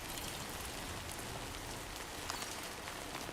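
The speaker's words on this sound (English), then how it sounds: "this rain's gonna stop" Rain falls steadily in the Death Stranding 2 game world, a constant even hiss of drops with no speech over it.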